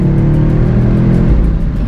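BMW XM Label Red SUV engine on the move, a deep, loud, steady rumble with a throbbing low-end pulse heard close up for about two seconds.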